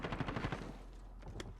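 An AA-12 shotgun firing explosive rounds in Modern Warfare, a rapid burst of heavy booming shots followed by a couple of sharper reports, loud and brief.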